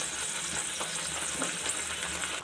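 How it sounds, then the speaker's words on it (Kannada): Tomato and onion paste fries in a pan for paneer egg masala, a dense, even sizzling hiss held throughout at close range, with no voices. "ಟೊಮೆಟೊ, ಈರುಳ್ಳಿ, ಇದನ್ನೆಲ್ಲ ಚೆನ್ನಾಗಿ ಫ್ರೈ ಮಾಡ್ಕೊಳ್ಳೋಣ"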